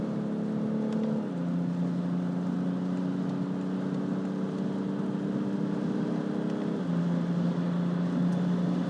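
A BMW X5 M50d diesel SUV accelerates hard in sport mode at high speed, its engine a loud, steady droning hum heard from inside the cabin, with a gear shift near the start and another later on.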